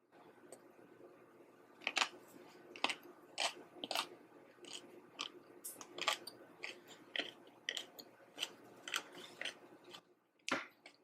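Crunchy close-up chewing of fermented kimchi at a Korean restaurant, Han Il Garden, with rhythmic wet bites repeating roughly every half second over a quiet room background.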